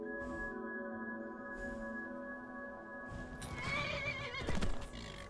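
A horse whinnies loudly over a steady droning musical background in modded Skyrim SE, followed by a short burst of hoof clatter and rustling near the end.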